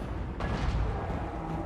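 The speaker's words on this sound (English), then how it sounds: "They were shooting some arty at us." Artillery fire in a Total War: Warhammer battle, with an Iron Blaster cannon on the field: a sharp boom strikes early, then a rumbling roll of gunfire and battle noise carries on loud and dense for the rest of the moment.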